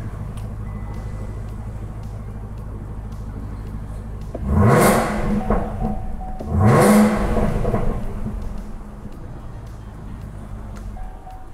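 Chevrolet Camaro ZL1 engine idling steadily, then two loud, sharp revs in quick succession that swell and fall back to a deep rumbling idle, close to the microphone with no talking.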